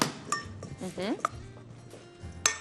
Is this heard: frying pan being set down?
yes